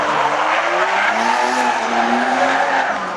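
A drift car at a Drift Masters GP qualifying round in Płock, 2016, skids continuously, loud close tire squeal layered with a roaring, rising engine throughout.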